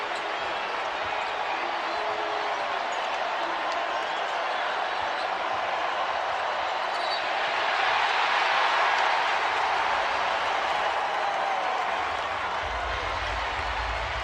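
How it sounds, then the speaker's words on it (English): Crowd applause and cheering at a college basketball game in Rupp Arena, Kentucky against Mississippi State, a steady broad roar of clapping that swells in the middle and stays loud throughout, with a low rumble near the end. "this crowd here at Rupp Arena is applauding the effort"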